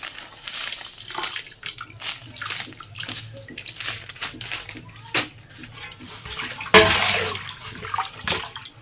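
Water poured into a biryani pot on the stove, splashing and gurgling in bursts with clinks of the pot, ending in a louder pour.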